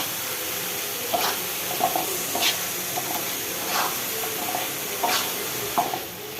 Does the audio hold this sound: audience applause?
no